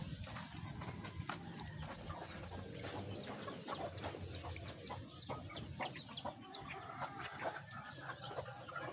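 Chickens cluck and a rooster calls at a rural Filipino home, mixed with steady hoof-like clip-clop knocks and scattered bird chirps over a busy outdoor background, with no speech.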